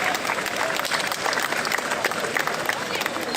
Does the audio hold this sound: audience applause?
yes